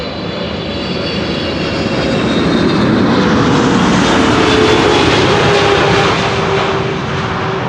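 A KLM passenger jet arriving at Amsterdam Schiphol roars steadily and loudly, its engine noise swelling slightly near the middle and easing off toward the end, with no talking over it.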